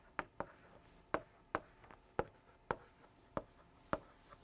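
Marker or chalk writing letters on a classroom board, heard as a series of about nine sharp, short taps and strokes in an irregular rhythm, close and fairly clear against a quiet room.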